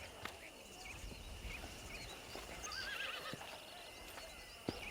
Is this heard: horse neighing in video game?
yes